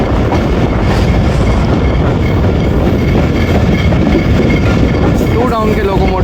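A passenger train rumbles and clatters loudly past at close range while overtaking the 2 Down Tezgam, with steady rail noise, wheel clicks and a brief wheel squeal near the end.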